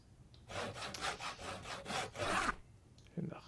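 Wood being sawn in the survival video game Project Zomboid, a run of rhythmic rasping back-and-forth strokes at close range, with no talk, ending in a short pause and a brief final scrape.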